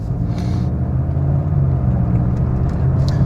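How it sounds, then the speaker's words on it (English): A noisy Volkswagen Golf engine drones under steady low road rumble, heard from inside the moving car with no talking. "Now the car is a noisy car, definitely."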